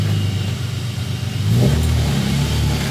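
An Infiniti G37 engine runs close by after a clutch replacement, idling with a low rumble before the revs rise briefly as it is put into first gear.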